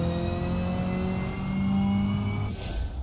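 Car engine in BeamNG.drive revving hard under a nitrous boost during a time trial, a loud steady drone climbing in pitch before a brief whooshing burst near the end.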